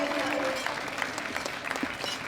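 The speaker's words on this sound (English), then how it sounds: "Big round of applause for all of our winners." Audience applause for the winners at the 2017 World Classic Powerlifting Championships, junior women's medal ceremony; a continuous crowd of clapping hands fills the arena, with a faint tonal hum and scattered sharper claps throughout.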